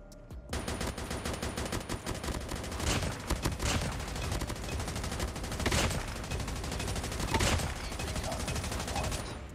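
Chopper light machine gun in Call of Duty Mobile firing in rapid repeated bursts, a steady rattling stream of shots that swells and eases over several seconds at moderate loudness.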